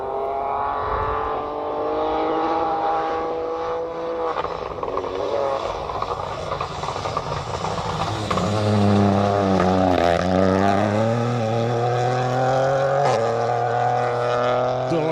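A rally car on a Welsh rally championship forest stage powers through a corner, its engine roaring loudly and climbing in pitch under hard acceleration, with rising and shifting revs as it drives close by.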